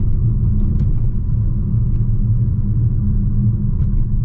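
Mitsubishi Eclipse Cross Ralliart crossover on the road, a steady low engine and road rumble from inside the cabin, even and continuous with no speech.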